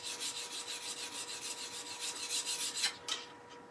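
A turning tool is honed on a fine 600 mesh DMT diamond card, giving rapid, rhythmic rasping strokes close by, steady for about three seconds before a few final scrapes trail off.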